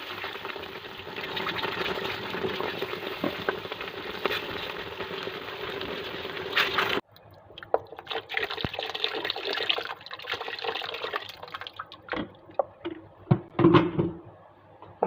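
Boiling water is poured into a pot of mloukhiya with bay leaves, a steady watery rush that stops abruptly, then gives way to sloshing, stirring and a few sharp utensil clinks against the pot.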